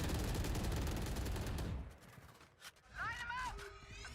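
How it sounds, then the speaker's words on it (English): Rapid gunfire from the video game Valorant during a professional match on the Bind map, a dense crackling burst of shots that fades out after a couple of seconds, followed by brief tonal game sounds. "Plenty of shots flying."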